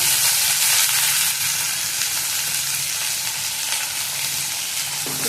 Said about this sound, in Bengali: এবারে এগুলো ভালো করে নাড়াচাড়া করে দিচ্ছি।